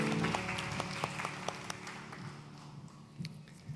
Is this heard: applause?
yes